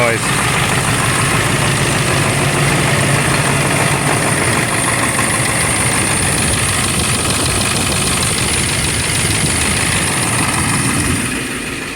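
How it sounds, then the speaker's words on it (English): Car engine idling as its turbo spools, a loud steady low rumble with a high whine running throughout, while people talk nearby. "I can kind of hear it spooling now."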